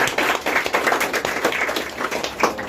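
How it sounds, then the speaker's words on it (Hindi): Students and guests at a felicitation ceremony for meritorious students at a coaching institute give loud applause, vigorous and continuous clapping filling the room with uneven peaks. "एक जोरदार ताली हो"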